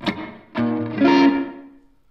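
Distorted electric guitar through a King of Tone overdrive pedal: a short picked note, then a sustained chord ringing out and slowly decaying.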